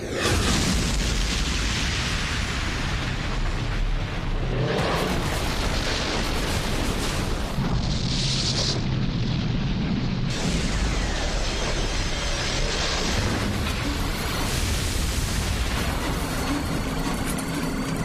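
Rumbling explosions and blasts from an animated sci-fi series as the fire planet breaks apart, a loud continuous roar with heavy low booms and bursts of crackling debris, dense and unbroken.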